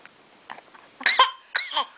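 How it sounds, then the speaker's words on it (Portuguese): Two short, harsh coughs close by, each a sharp burst, following some faint quieter sounds. "Ai, ai, tosse."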